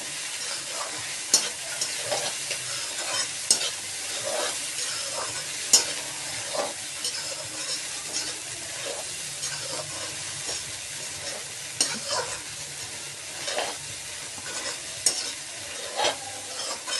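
Kanda poha, flattened rice with onion, being stirred in a pan: repeated scraping strokes of a spoon over a soft continuous sizzle, close and fairly even throughout, with no voices.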